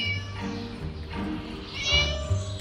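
Cat meowing in the Scary Teacher 3D video game, several drawn-out meows over a steady game soundtrack with faint talk beneath.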